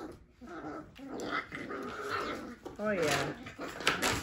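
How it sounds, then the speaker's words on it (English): Young whippet puppies, about four and a half weeks old, play-fight indoors with small growls, yips and whimpers throughout, while a person talks briefly over the scuffle. "Okay, now they're getting into a puppy fight."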